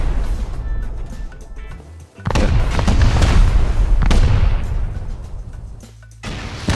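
Grenades exploding in the survival video game Rust, two or three loud booming blasts with rumbling debris tails, close and heavy, separated by a brief lull.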